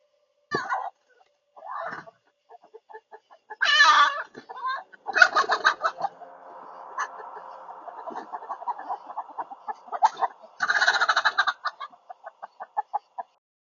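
Chickens cluck and squawk in a coop, with scattered close calls and bursts of clucking from several birds and no talking.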